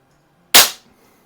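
A single sharp crack from an Umarex Zelos regulated air gun, close and loud, with a quick decay into near silence.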